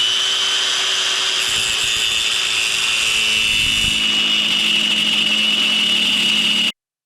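A saw cuts through a steel T-slot stud bolt clamped in a vise, a continuous, fairly loud grinding rasp that holds steady for nearly seven seconds before stopping abruptly.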